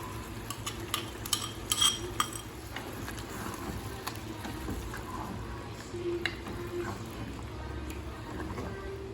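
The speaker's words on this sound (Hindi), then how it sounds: "साथ साथ आप चिकन को हिलाते रहें।" Chicken being stirred in a pot for biryani, steady faint scraping and clicking of a spoon against metal over a low sizzling background, a few sharper clinks, close and without talk.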